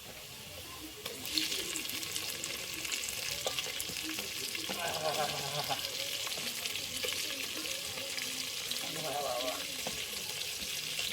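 Tomatoes and chillies sizzling in a pan over fried onions while cooking chicken biryani, a loud continuous close sizzle with bursts of stirring and scraping, and faint voices in the background.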